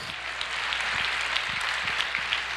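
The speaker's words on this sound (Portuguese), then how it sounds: "aplaudam o Senhor" A church congregation claps during a sermon, a sustained wash of applause with a few sharper individual claps standing out, with no voices over it.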